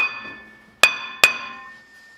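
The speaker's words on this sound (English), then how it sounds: "I'm going to go ahead and just give it a couple of whacks and it'll pop it loose." A hammer strikes the rear brake rotor of a 2015 Hyundai Sonata twice to knock it loose. The two sharp metallic clangs come about half a second apart, and each rings and fades.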